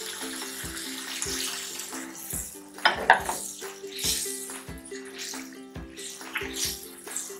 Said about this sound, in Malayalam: ഒരു അര ഗ്ലാസ് വെള്ളവും കൂടി ചേർക്കട്ടെ